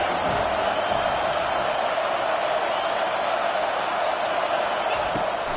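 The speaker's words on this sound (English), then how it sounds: "4th down, and this crowd is making it miserable on this offense." A football stadium crowd roars on fourth down, a loud, dense and unbroken wall of noise that holds steady throughout.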